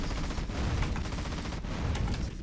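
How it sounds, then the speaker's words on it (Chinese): Rapid machine gun fire in GTA San Andreas played with random and chaos mods, a dense continuous rattle of overlapping shots at moderate, steady loudness with no pauses. "因为它射机枪就自动瞄准"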